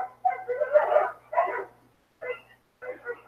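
A dog barks and yips in several close, choppy bursts separated by short silences, the sound sharp and fairly loud with a whiny edge between barks.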